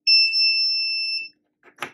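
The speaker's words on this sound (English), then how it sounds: "As you can see, the buzzer beeps and the LED lights up." A buzzer on an IoT flame sensor sounds one steady high-pitched electronic tone for just over a second, close and loud, then stops, followed by a faint brief rustle.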